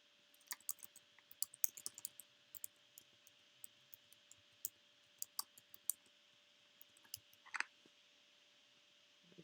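Fingers typing on a computer keyboard, quiet scattered clicks in short irregular bursts with pauses, close and faint with no talk.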